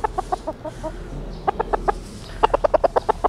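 Native roosters scuffle after a typhoon flood, giving off rapid bursts of clucking and squawking in quick clustered series, close to the microphone, with a low steady hum underneath.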